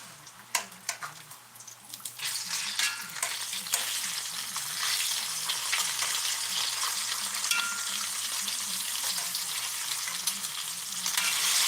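Bacon and an egg fry on a hot griddle with a loud, continuous crackling sizzle that starts softly and swells after a couple of seconds, marked by occasional sharp spatter pops.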